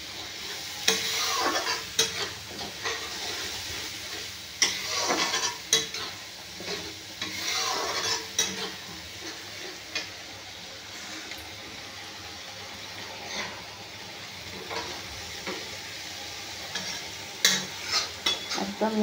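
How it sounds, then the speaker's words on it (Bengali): Spice masala is stirred in a sizzling pan for a village-style potato and pointed gourd curry, with repeated scraping strokes over a constant close frying hiss and no talking. "মশলাটাকে একটু ভালো করে মিশিয়ে নেব"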